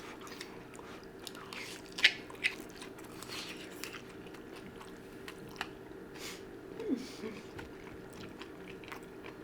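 Close, quiet chewing with occasional sharp crunches and soft wet mouth sounds over a low steady hum.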